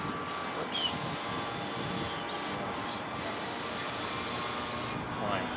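Cleaner sprays in close, hissing bursts into the idle air control valve of a 2001 Dodge Dakota 4.7L, a continuous spray interrupted by a few short pauses.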